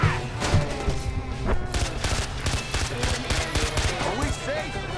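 Gunfire in the video game Far Cry 4: repeated rapid bursts of shots crackle loudly and unevenly throughout, mixed with engine rumble and game noise.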